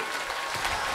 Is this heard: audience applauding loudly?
yes